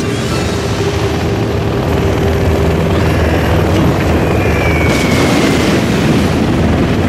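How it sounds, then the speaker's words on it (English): A hypersonic aircraft in the Command & Conquer Shockwave game roars in a loud, steady, dense rush of engine noise with booming undertones, continuous throughout and with no talking. "Hypersonic aircraft. We control the skies."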